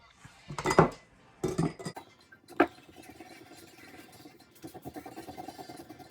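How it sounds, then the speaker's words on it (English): A metal pot of water clanks and rattles a few times against a stove, with a sharp clink, then a low rumbling hum continues underneath. "we're gonna turn our pot of water on and get that boiling"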